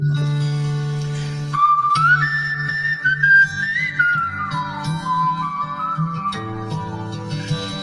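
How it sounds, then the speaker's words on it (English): A live whistled intro to a song in London in 1970, one clear sustained melodic line gliding up and down over a steady low instrumental drone, close and prominent. "I've devised a little whistling intro for this and then whistle like this"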